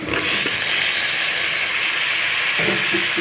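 Tomatoes go into a hot, oiled pan for a fish and brinjal curry. A loud, steady hiss of frying fills the whole short stretch, with faint pan knocks underneath and no speech.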